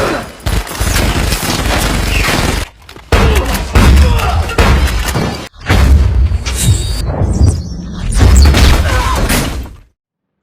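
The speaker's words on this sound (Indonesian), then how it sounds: "langsung memberondong peluru ke arah Max." Bullets are sprayed by guards in an action film scene as loud, dense bursts of gunfire with booms and thuds, broken by short silent gaps and ending abruptly.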